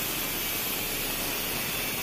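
A slipped suspension bolt on a Maruti Omni is cut through, producing a steady, loud, harsh hiss-like roar that holds unbroken throughout.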